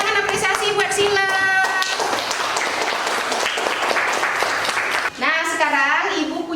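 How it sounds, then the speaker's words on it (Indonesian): A class claps in applause, a sustained wash of many hands that is loud and steady throughout, while a voice speaks and sings over it. "Yuk beri tepuk tangan apresiasi buat Sila."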